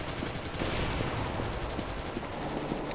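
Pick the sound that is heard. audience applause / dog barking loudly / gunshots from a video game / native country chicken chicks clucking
gunshots from a video game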